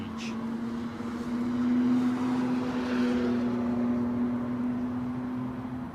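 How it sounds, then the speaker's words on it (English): An American Airlines Boeing 777-200ER, 22 years old and arriving at London Heathrow from New York, gives off a steady distant jet-engine drone with a sustained low hum that swells slightly and then holds. "American Airlines 777-200 extended range, inbound from New York."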